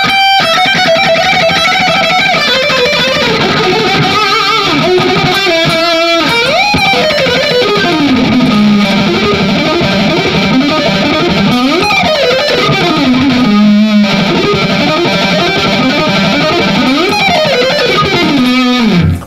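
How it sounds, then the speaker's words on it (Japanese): A Bacchus IMPERIAL 24 electric guitar plays through heavy distortion with noise gate and light delay, a continuous loud run of sustained notes and bending lines with no talk. "ああ、ギターだって感じの音がするかと思います。"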